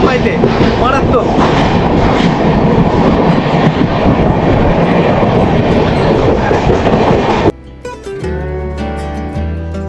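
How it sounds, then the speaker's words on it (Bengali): A Mumbai local train runs through the city at office-hour rush time. Its loud, steady rumble and wheel clatter fill the clip up close, then drop abruptly to a quieter, tonal hum near the end. "যত শহরে ঢুকছি তত লোকাল ট্রেনের সংখ্যা বাড়ছে"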